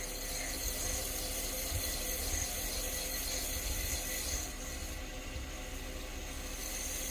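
Sandpaper works a handmade calligraphy dip pen back and forth, probably spinning on a lathe, giving a steady close rasping hiss over a continuous mechanical whir that holds for several seconds.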